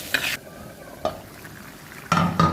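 A spatula scrapes and stirs a mashed bhorta being fried dry in a pan, with a few sharp scraping strokes and faint sizzle between them, close and moderately loud.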